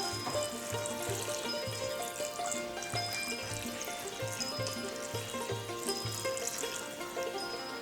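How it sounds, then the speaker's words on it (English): Water pours into a cooking pot of Thai five-spiced pork with mushrooms and fried tofu, a steady splashing trickle heard alone over a sustained background tone. "Add water."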